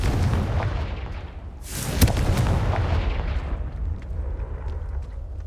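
A Confringo blasting curse goes off in the Hogwarts Legacy video game: one loud, sharp explosive burst about two seconds in, over a steady rumbling game soundscape of booms and low noise.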